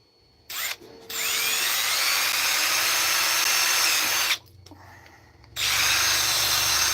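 Power drill boring holes through Halloween masks: two bursts of steady high whine, a short one near the start and a long one of several seconds, then a pause and a third run starting up, close and loud.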